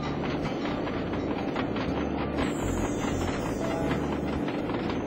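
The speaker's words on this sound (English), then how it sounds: "waiting for the train to cross" A train rumbles past at a crossing in the Sly 2 game, a continuous rolling clatter heard steadily throughout with no speech.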